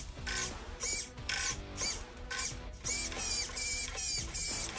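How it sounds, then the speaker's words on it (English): Stock RC servo moving back and forth, a series of quick whirring motor bursts in an uneven rhythm, close and fairly quiet. "here's the stock servo"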